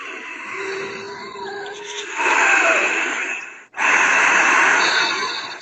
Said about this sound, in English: what I like to do is called the Ujjayi breath